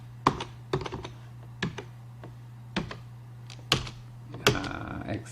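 A computer keyboard is tapped in short, separate presses, including the spacebar, while paging through a CentOS Linux terminal. About six crisp, irregularly spaced clicks sit over a steady low electrical hum, with no talking.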